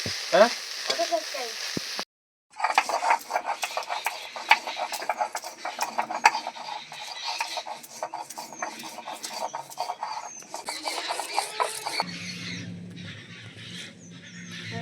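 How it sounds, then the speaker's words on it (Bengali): Prawns crackle and spit loudly in hot oil, a dense frying sizzle that drops out briefly near the start and eases toward the end. "চিংড়ি মাছ আমার প্রায় ভাজা হয়ে এসছে।"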